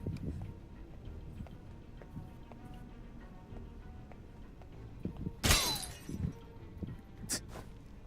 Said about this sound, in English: Don't mind the sound of the glass breaking.